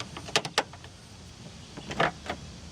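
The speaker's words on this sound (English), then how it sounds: "Let's close the door." A 2005 Pontiac Vibe door being shut after a handle replacement: a few quick close clicks and thumps, then a latch sound, faint and close with no talking.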